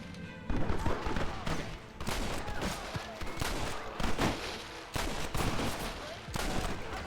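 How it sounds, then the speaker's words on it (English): A Gatling gun in Red Dead Redemption fires in repeated rapid bursts with short gaps between them, loud and dense throughout, while other shots and game noise mix in. "I'm gonna die because I'm running this stupid Gatling gun."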